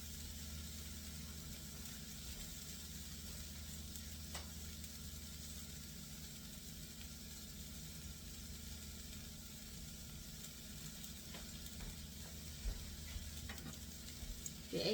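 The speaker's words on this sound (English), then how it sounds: "You just want this sauteed, and that's what we're doing very slowly for about 5 minutes." Food for an Egyptian eggah with ground beef and spinach sautés slowly in a pan, with a steady low sizzle that runs continuously and stays fairly faint, with no talk.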